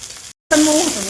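Onion frying in a pan with salt: a loud close sizzle that drops out briefly, then returns strongly and hisses on.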